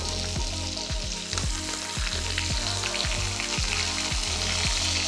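A pasture-raised ribeye steak with garlic and fresh thyme sizzles loudly and steadily in a pan, a close, dense frying hiss with regular spattering pops throughout.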